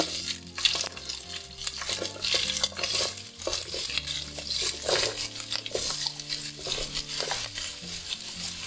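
Large chopped onions sauté in a pan for butter chicken, a bright, steady sizzle up close with frequent stirring scrapes and light clinks of a utensil against the pan.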